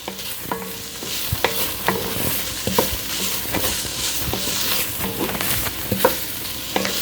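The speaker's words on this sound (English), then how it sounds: "All right, get our butter in there. We'll melt that in. Get everything coated in the butter." Butter melting in a pot of chowder ingredients with clams, heard as a steady sizzle with repeated scraping strokes of a spoon against the pot, close and continuous with no talking.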